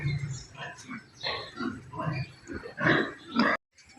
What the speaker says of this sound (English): So we'll go and have a look at the pigs.